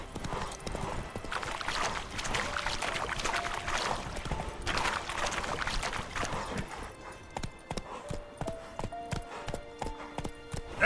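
Hooves of Roach, the horse in The Witcher 3, clip-clop steadily in a continuous trotting rhythm at close range, with no talk over them.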